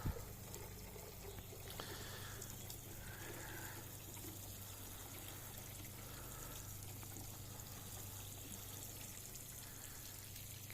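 Water is poured to soak newly planted bamboo in garden soil, making a faint, continuous splashing gush that runs steadily throughout.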